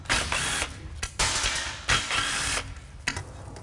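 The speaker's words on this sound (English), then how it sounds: "I'm just using a 10 millimeter socket on an electric impact gun." An electric impact gun with a 10 mm socket spins off oil pan bolts on a CVT transmission, giving loud rattling bursts in four or five runs separated by brief pauses.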